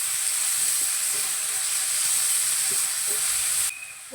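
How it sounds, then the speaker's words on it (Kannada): Chopped onions fry in hot oil in a pan for spinach curry, a steady, loud, close sizzle and hiss that drops away abruptly near the end. "ಸಣ್ಣ ಕಟ್ ಮಾಡಿಕೊಂಡು 2 ಈರುಳ್ಳಿ ಹಾಕಿ"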